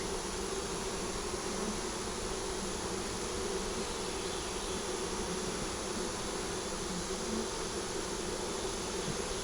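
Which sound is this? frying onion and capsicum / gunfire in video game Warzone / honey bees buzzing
honey bees buzzing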